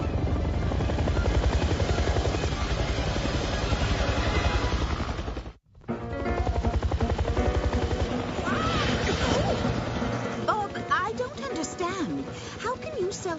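A helicopter's steady rotor thump fills the scene, loud and continuous, with voices talking over it and a brief dropout midway.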